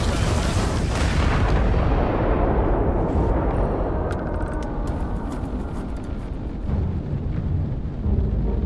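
A heavy, booming blast of spaceship missiles firing in Starfield erupts loudly at first, then rumbles and fades slowly over several seconds with a faint hiss trailing behind.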